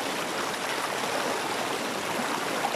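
River water at Kampung Lelotan flows steadily and loudly, a continuous broadband rush with gurgling texture throughout, no voices over it.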